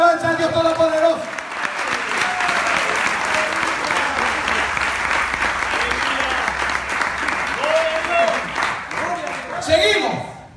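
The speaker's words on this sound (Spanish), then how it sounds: "¿Cuánto le dan palmas de alabanza a Dios Todopoderoso?" A church congregation claps in praise during a live evangelical service at a temple in Chile, steady dense applause filling the room for about ten seconds with voices and shouts mixed in, swelling again near the end.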